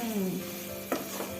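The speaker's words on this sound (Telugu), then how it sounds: "మనం ఇప్పుడు వేసిన పౌడర్స్ అన్నీ కూడా కొంచెం ఫ్రై అవ్వాలి కదా." Ground coriander and cumin powder stirred in hot oil in a pan give a soft sizzle with a brief scrape of the spoon, close and fairly quiet.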